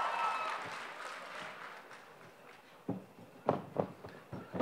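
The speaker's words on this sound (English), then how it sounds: "keep that applause going" Audience applause fills Hall H at a Comic-Con panel for Arrow, a dense wash of clapping that thins midway, then sharper bursts of claps and cheers swell near the end.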